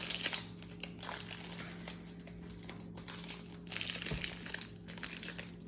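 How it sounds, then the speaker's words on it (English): Packaging pulled off a Hulkman battery jump starter during unboxing: close, intermittent crinkling and crackling of plastic and wrap, soft and uneven, with small rustles and a brief tap. "I have a hard time getting packaging off sometimes"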